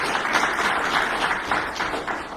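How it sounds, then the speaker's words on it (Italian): An audience at a conference gives steady, moderately loud applause that sounds like many hands clapping together throughout, with no voices over it. "Un grande applauso"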